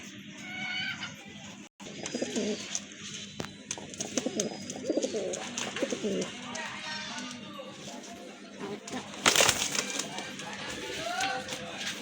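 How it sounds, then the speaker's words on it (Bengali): A pair of large Gopalganj pigeons giving low, repeated cooing calls close by, mixed with rustling, wing flaps and scattered chirps from other birds, while someone talks throughout. "এক জোড়া গোপালগঞ্জের বড় পায়রা কবুতর"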